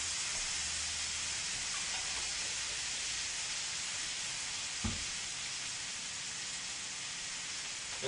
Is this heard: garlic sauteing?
yes